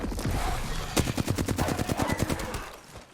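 Rapid automatic gunfire in the video game Apex Legends, aimed at Prowler creatures, a dense burst of close, loud shots in quick succession that tapers off near the end.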